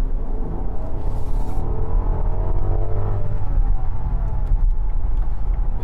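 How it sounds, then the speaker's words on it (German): A Rolls Royce Cullinan Black Badge V12 accelerates at full throttle, giving a smooth, steady engine roar that climbs in pitch, with a dense low rumble of road noise throughout. "Vielleicht drücke ich jetzt einmal durch, vielleicht hören wir mal ein bisschen was."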